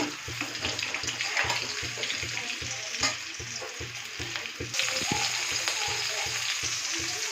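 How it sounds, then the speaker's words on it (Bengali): New potatoes frying in oil for a potato curry, a continuous close sizzle with a busy bubbling crackle and some clinking throughout. "ভালো করে লাল লাল করে আগে ভেজে রাখবো"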